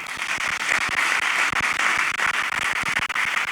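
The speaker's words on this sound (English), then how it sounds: "Please give him a clap." An audience at a pastor's meet-and-greet event in Seattle gives dense, continuous applause of many overlapping claps, steady and loud for several seconds with no talk over it.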